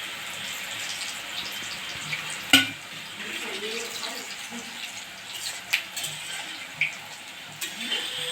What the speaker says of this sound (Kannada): ಗರಿಯಾಗಿ ಎಣ್ಣೆಯಲ್ಲಿ ಬಿಡಬೇಕು